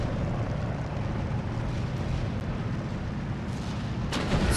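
Tank gun fire and battle rumble in the WWII strategy game Steel Division 2, a steady roaring wash of distant artillery-like booms with a sharper burst near the end, no talk.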